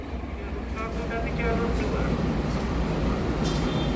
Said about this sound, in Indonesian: kereta api Sawunggali masuk